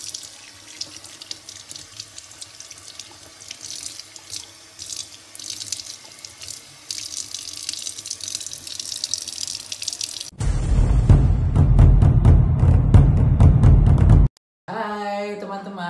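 Tap water runs into a sink as cut fish is washed, a steady splashing rush that turns loud and full partway through, with dripping and brief clatter at the end.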